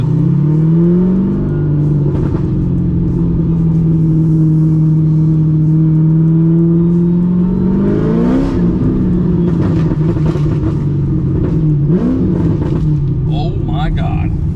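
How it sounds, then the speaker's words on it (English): A widebody LSX-swapped Corvette V8 idles loud and lumpy up close, then blips its throttle in several sharp revs that rise and fall, with bits of voices over the rumble. "This is the nastiest sounding Corvette I've ever heard in person."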